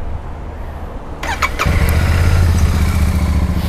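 A 2023 Royal Enfield Super Meteor 650 with about 900 km on it starts: a brief starter whir and click, then the engine catches and settles into a loud, steady idle close by.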